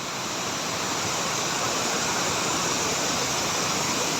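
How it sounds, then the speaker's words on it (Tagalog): A waterfall roars in a continuous, dense rush of white water, loud and close, with no breaks or voices over it. "ganda ng falls oh"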